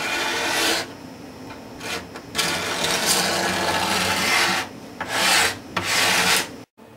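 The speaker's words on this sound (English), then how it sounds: "So basically I'm just going to kind of scrape the top along the edges here until I come down close to the same height as the herringbone." A scraper is drawn along the edges of a spruce guitar top down to herringbone purfling, making loud, close rasping strokes of a second or more, separated by brief pauses, with no voices.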